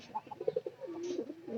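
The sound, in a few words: pigeon cooing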